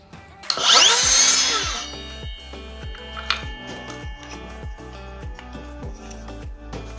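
A Makita XSL02 cordless miter saw with a 7.5 inch blade gives one loud, high whine lasting about a second, then quieter repeated clicks and taps as it winds down.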